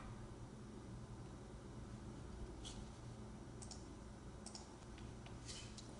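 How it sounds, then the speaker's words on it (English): A computer mouse clicking a buy button, heard as a few faint, sharp clicks spread over several seconds against a steady hiss of background noise. "Come back over here, and click here to buy"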